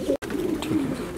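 Fancy pigeons, a black self pair on a breeding farm in Multan, Pakistan, coo in a low, rolling murmur, close and fairly loud, with a brief gap near the start.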